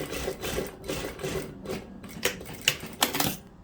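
A sewing machine stitches along blouse fabric in short bursts, its rapid mechanical rattling clatter starting and stopping several times, close and fairly loud with no talk.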